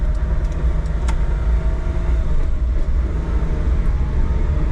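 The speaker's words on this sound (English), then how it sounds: "So we're just gonna drive around the block the same way I did in the Honda Street." A car drives around a residential block, heard from inside the cabin as a steady, loud rumble of road and engine noise with no talking.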